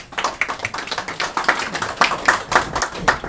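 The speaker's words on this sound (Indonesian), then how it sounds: "tepuk tangan untuk panjenengan semuanya" A crowd claps steadily and briskly, many hands overlapping in a dense, close patter that holds throughout without pause.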